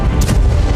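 Explosions in Syria: a loud, continuous rumbling blast with cracking bursts layered on top, heavy and close for under a second.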